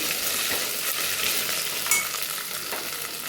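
Ginger garlic paste is stirred into dal frying in a pan, giving a continuous bright sizzle with soft scraping from the stirring, close and steady.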